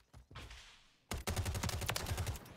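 Semi-automatic rifle fire in a shooter game: a couple of isolated shots, then a quick run of evenly spaced loud cracks after a short quiet gap.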